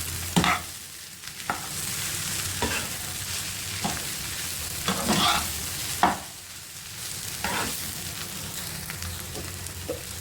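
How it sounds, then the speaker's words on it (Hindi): A kebab mixture with turmeric and red chili being stirred in a hot pan, a steady sizzling hiss broken by scraping strokes of a spoon every second or so, close and clear with no talking. "और अब मैं इन सारी चीज़ों को मिक्स करूँगी अच्छी तरह से।"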